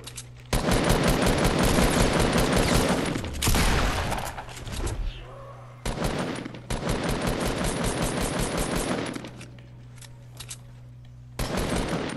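Heavy assault rifle fire in Fortnite comes in long, loud, rapid automatic bursts, separated by brief pauses and a stretch of quieter shots, up close with no talking.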